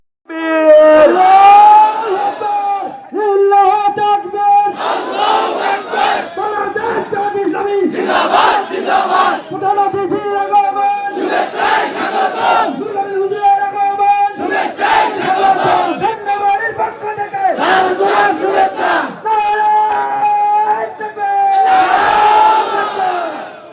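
Large crowd at an election rally in Pirganj chants Allahu Akbar in answer to a leader's call of Nara-e-Takbir, loud roaring bursts alternating with shouted calls over about twenty-four seconds.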